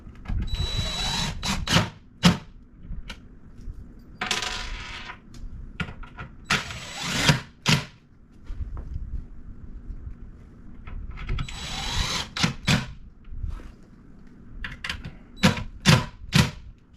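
Power drill driving the largest screws into pilot holes while assembling a printer stand, several short whirring bursts of varying length separated by quiet pauses, fairly close and moderately loud.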